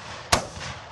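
A single sharp shotgun blast during a dove hunt in Yuma, Arizona, one sudden bang with a short decaying tail over faint outdoor background.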